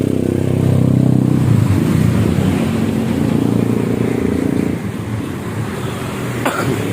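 A loud Kawasaki Ninja 800 sport motorcycle engine with a custom exhaust muffler rumbles and revs close by, a deep throaty exhaust note that drops slightly in intensity partway through, with a brief clank near the end.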